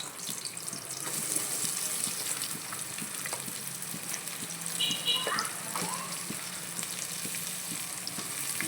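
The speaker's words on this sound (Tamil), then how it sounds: "எண்ணெய் வந்து லைட்டாக காஞ்சிடுச்சு வெங்காயம் வந்து சேர்த்துக்கிறேன்" Onion fries in hot oil with cinnamon and clove, giving a continuous close sizzle with scattered spits and a few faint chirping sounds in the background.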